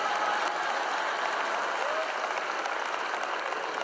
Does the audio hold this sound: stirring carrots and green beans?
no